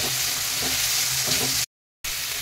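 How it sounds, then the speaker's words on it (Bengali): Chopped green chilli goes into a sizzling pan of onions and tomato for egg bhurji, a steady close crackle with light stirring scrapes, cut by a short dead-silent gap before the sizzle resumes. "আর দিয়ে দেবো কুচি করে রাখা লঙ্কা।"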